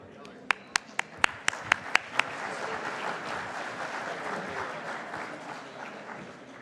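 Audience applause welcoming a legislative panel at a groundwater summit: a few sharp individual claps up front swell into steady, sustained clapping from a crowd filling the room.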